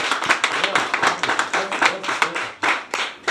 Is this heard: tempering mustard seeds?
no